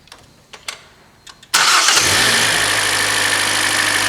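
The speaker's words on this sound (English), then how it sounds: "So we're going to start the car now, and let's look at the numbers that we get on our meters." A car engine cranks and fires at about a second and a half, then settles into a loud, steady idle that runs to the end, preceded by a few faint clicks and knocks during an alternator test.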